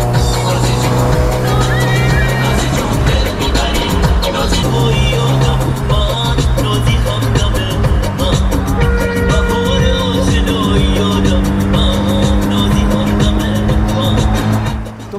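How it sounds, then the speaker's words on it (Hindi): Car driven wildly and aggressively like a well-of-death stunt car on a drive to a restaurant in Tehran, a loud continuous engine drone with shifting tones running the whole time, close and dense with road noise. "भाई फिर से शुरू हो गया उसकी मौत के कुएं वाली गाड़ी चलाना"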